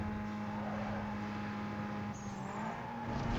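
A car races at high speed in the Need For Speed Most Wanted video game, a sustained engine drone with a steady pitch and a brief high whine partway through, quiet but continuous.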